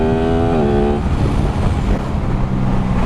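A new motorcycle's engine revs up loud and close, its rising whine breaking into a rough, roaring drone as it accelerates, with no talk over it.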